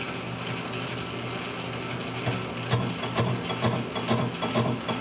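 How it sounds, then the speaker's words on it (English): A lathe faces stock for a 7 1/4 inch gauge locomotive wheel flat, with a steady hum of the machine under a continuous metallic scraping cut that grows rougher and more uneven toward the end. "cut this part to exactly flat 90-degree angle to the axis of the lathe"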